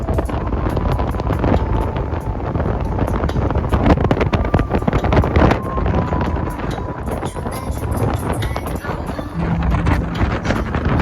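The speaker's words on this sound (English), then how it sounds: "It was a little windy. It's just the wind just hits your face." Loud, constant wind buffeting a microphone, a rushing roar that fills the whole stretch without pause, heard from the back seat of an open car.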